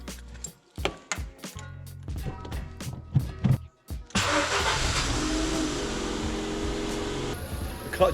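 A Ford car engine starts after several sharp cranking bursts and clunks, then catches and settles into a loud, steady idle that runs on without any talking.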